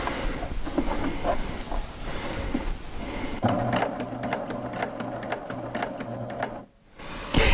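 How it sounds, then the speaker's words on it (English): A Baby Lock sewing machine stitching with thick thread, running steadily with a close, even mechanical whir and rapid needle chatter, then slowing and pausing briefly before starting again; no voices. "So now let's take a couple stitches just to get it started."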